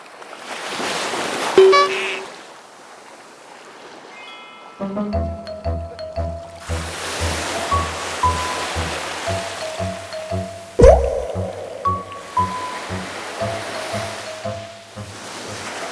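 Strong ocean waves break and wash onto a shore near a jungle, a loud continuous surf roar with layered music coming in partway through.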